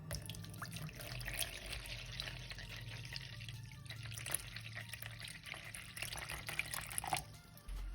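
Water pours steadily into a container while measuring out liquid for a homemade coffee soap batch, a continuous close trickle with a few splashes and no talking.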